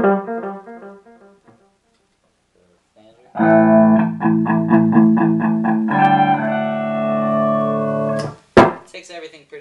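Electric guitar played through an Orange Micro Terror amp head with Supernatural reverb and Hardwire delay pedals, ringing chords and arpeggiated notes with lush echo tails, a pause, then sustained chords ending in a sharp strum.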